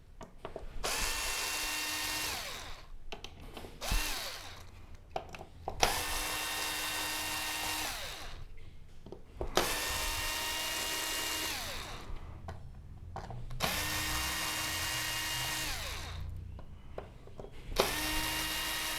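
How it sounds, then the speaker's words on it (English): Power screwdriver backing screws out of the TCON board on an LG OLED65A1PUA OLED TV, a run of whirring bursts of about two seconds each separated by brief pauses, close and loud with no talk. "So let's get these screws out of the TCON board"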